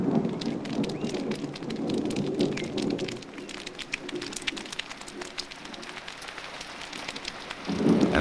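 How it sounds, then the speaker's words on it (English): Rain begins falling on dry desert sand and soil in the Holy Land wilderness, a dense patter of drops that stays steady throughout with no voices. "A few drops of rain start to fall on the dry soil."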